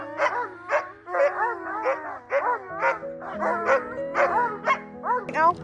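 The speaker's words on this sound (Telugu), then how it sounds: "సో ఇక్కడ అన్ని కుక్కలు కట్టేసి ఉన్నాయి." Tethered sled dogs in a cold Alaskan dog yard yelp, bark and whimper in a rapid excited chorus, several animals close by with high rising whines between sharp barks.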